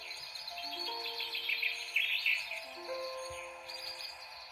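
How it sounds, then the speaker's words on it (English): Bright, high bird chirps and tweets from a children's sound book twitter continuously at moderate volume over a quiet background, sounding slightly electronic and thin. "they're going chirp, chirp, tweet. They're all singing."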